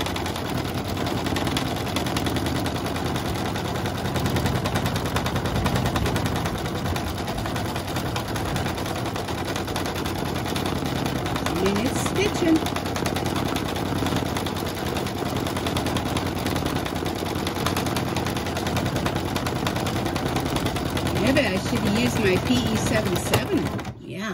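An embroidery machine stitching onto a rope coaster, running with a continuous rapid mechanical chatter of the needle that stays steady and loud throughout, with occasional faint voices in the background.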